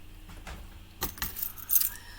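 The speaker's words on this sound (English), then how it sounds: "These bits I will just do with snips." Metal snips cut along stamped cardstock, trimming close to the stamped image: a few crisp snipping clicks and rustles with a louder cluster near the end, close up and with no talking.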